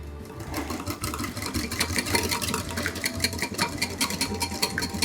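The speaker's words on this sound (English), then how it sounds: "we are going to just whisk it all together" Soba noodle salad dressing with ground ginger and sesame seeds being whisked together in a bowl, a steady, busy scraping and rattling that runs the whole time at moderate loudness, close by and without talk.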